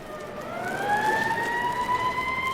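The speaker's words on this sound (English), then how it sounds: "Look, Peter, those police cars are headed towards..." Police car sirens in a Spider-Man audio drama wail with rising, overlapping tones over a rushing traffic background, fairly loud and sustained.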